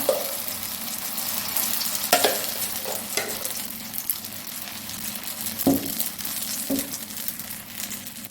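Mango pieces frying in ghee in a pan, a dense continuous sizzle broken by repeated scraping stirs of a spoon, close and steady.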